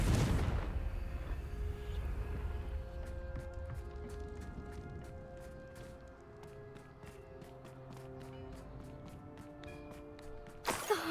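In Hogwarts Legacy, a Confringo fire spell explodes with a deep, heavy boom right at the start that rumbles and fades away beneath soft game music and a rhythmic ticking.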